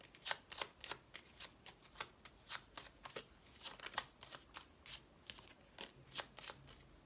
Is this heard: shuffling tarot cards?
yes